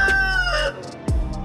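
A rooster crows and chickens cluck close by, a short burst of fowl calls with a sharp bird squawk near the end.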